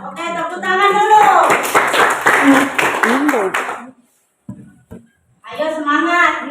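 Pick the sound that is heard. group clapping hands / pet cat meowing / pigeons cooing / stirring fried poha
group clapping hands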